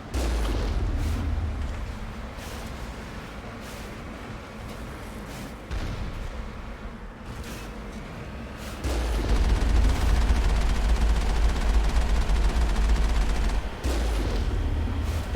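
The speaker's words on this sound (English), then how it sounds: "Why am I being fired up on by an Alliance turret?" An Alliance turret firing in the video game Mass Effect, a sustained stream of rapid shots with booming low rumble that swells louder midway through and holds steady, heard alone without talk.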